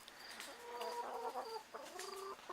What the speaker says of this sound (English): some egg layers here. 13 of them. And they give us an egg a day.